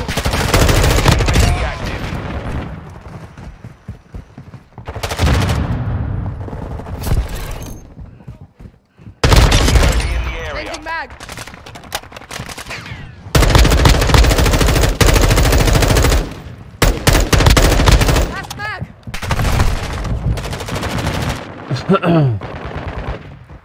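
Rapid automatic gunfire from Call of Duty, loud close bursts and sustained streams broken by short pauses, with a voice talking over parts of it.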